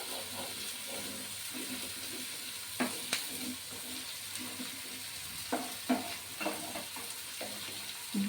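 Masala with ginger and garlic sizzling in a pan for egg curry, a constant frying hiss with soft scraping stir strokes and a few sharper clinks of the spoon, no talk.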